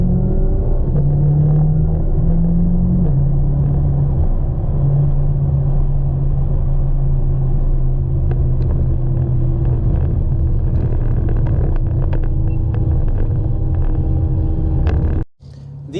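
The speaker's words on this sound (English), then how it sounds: "with that exhaust note going off in the background, you could tell it's changing like bang, bang, bang, bang, bang" BMW M5 F10 with a 4.4-litre twin-turbo V8, a steady deep exhaust rumble droning continuously at close range with a faint shift in pitch, ending in a brief dropout.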